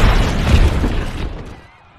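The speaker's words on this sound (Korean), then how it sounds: "엄청난 굉음과 함께 베수비오 화산이 드디어 폭발하죠" Mount Vesuvius erupts in a huge roar over Pompeii: a loud, dense rumbling blast with booming low end and crackling debris that holds strong for over a second, then fades away.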